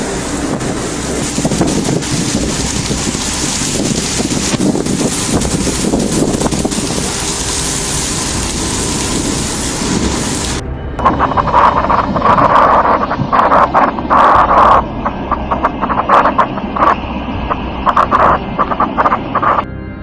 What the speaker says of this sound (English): strong storm hit Wasipur, a locality in Dhanbad City,